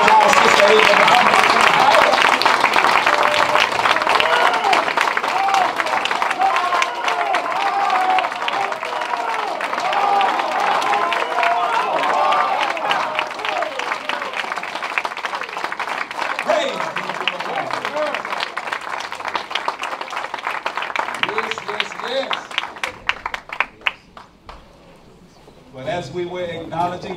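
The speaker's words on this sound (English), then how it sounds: "Give her a round of applause, our sister Ava." A gathered audience applauds and cheers to welcome the school principal, sustained loud clapping with crowd voices mixed in, fading and breaking up near the end.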